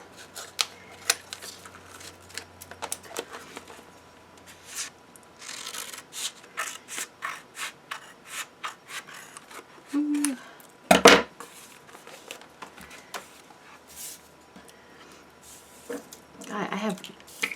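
Small scissors snip through glued-down paper for a decorating list, a series of short, close, crisp cuts in an irregular rhythm with light rustling and one sharper clack midway.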